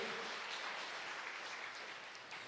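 Church congregation applauding together in a sustained burst of clapping, fairly distant and faint, filling the room evenly for a couple of seconds.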